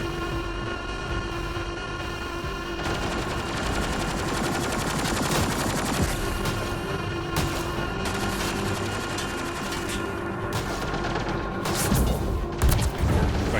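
Sustained rapid automatic gunfire in the Mass Effect Andromeda video game, dense overlapping bursts with crashes and booms, loud and continuous throughout with no talk.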